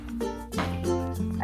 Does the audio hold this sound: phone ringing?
no